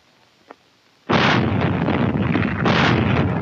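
Rapid-fire 8-inch naval guns aboard a warship fire in a sustained, booming barrage, a sudden loud onset followed by continuous rumbling blasts with a second surge near the end, preceded by a faint small pop.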